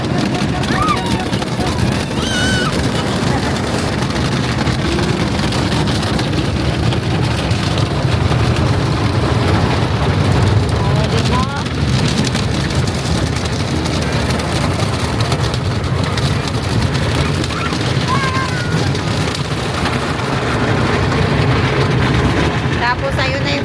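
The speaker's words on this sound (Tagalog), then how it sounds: "Tapos ayun na yung dryer. Nagda-dry na yung sasakyan namin." A loud, steady rush of blowing air from a car wash dryer roars continuously over a car, with faint voices and rumble underneath.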